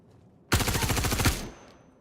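Rapid automatic gunfire in a VR shooter, one continuous burst of about a dozen loud, evenly spaced shots lasting under a second, then a short tail fading into quiet.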